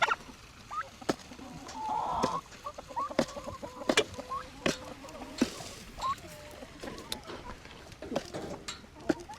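Farm chickens cluck and mutter close by during an egg collection, with a sharper squawk early on, scattered thumps and clatter around them, and no clear talking.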